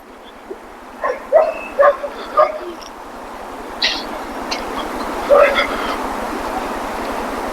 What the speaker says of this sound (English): I think I brought some really rambunctious dogs.